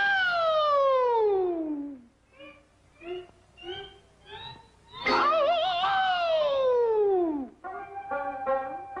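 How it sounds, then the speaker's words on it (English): A cartoon air raid siren from the 1943 Looney Tunes wartime short Tokio Jokio, presented as Japan's finest, wails loud and clear, sliding downward, then gives a few short stuttering blasts before another long falling wail and a final choppy burst. "demonstration of Japan's finest air raid siren"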